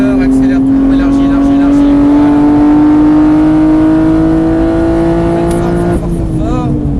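A race car at Mireval circuit accelerates hard, a loud close engine note rising steadily in pitch for several seconds before easing off near the end, with a coaching voice speaking over the roar.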